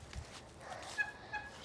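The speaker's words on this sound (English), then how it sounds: "There's some chickens in here." Farm chickens give a few short, faint clucks and squawks in a quiet pen, separated by soft background noise.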